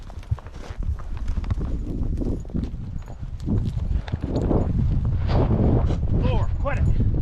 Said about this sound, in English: I got a horse beside me.